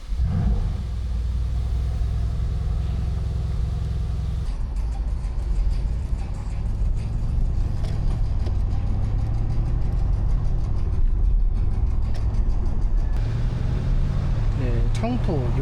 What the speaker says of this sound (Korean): 일단 지금은 컴포트 모드에 가변 배기를 켜놓은 상태고요. 그래서 이렇게 배기가 은은하게 나면서 저 RPM으로도 이렇게 배기음 들으면서